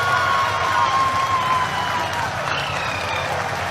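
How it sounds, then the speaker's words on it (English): A crowd watching an ISRO lander mission broadcast applauds in a sustained, fairly loud stretch of clapping and cheering, with a voice faintly present underneath. "People are applauding."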